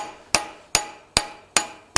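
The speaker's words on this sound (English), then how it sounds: "We're gonna hammer it straight down." Hammer blows on hot steel while forging a spatula, five sharp ringing strikes at a steady, unhurried pace, each with a short metallic decay, close and clear with no talk.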